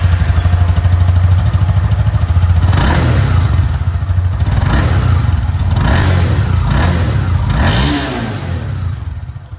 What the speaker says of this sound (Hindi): यहाँ पर इसकी जो एग्जॉस्ट साउंड है वो भी सुन लीजिए